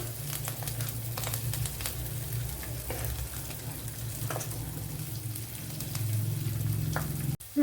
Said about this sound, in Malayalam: വെളുത്തുള്ളി ഇഞ്ചിയൊക്കെ മൂത്ത് വന്നിട്ടുണ്ട്